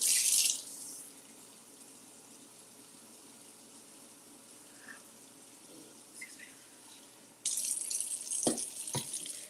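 Kitchen tap water runs into a cooking pot in two short bursts, a soft hiss at the start and a louder splashing gush near the end, with quiet room noise in between.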